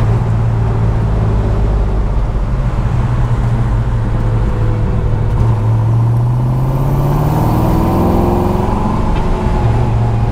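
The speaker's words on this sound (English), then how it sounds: "A little burble from the exhaust." A deep, steady V8-style engine rumble from a 1965 Ford Mustang Fastback muscle car, with a throaty exhaust burble, its pitch climbing gradually as the car accelerates; no talking.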